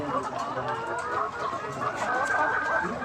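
A dense flock of layer hens in a large poultry farm shed keeps up a constant, busy clucking and cackling, loud and crowded throughout, with people talking faintly underneath.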